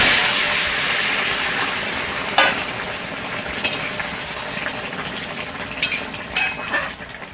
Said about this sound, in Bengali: আমি কটা জিরে ফোড়ন দিয়ে দেব।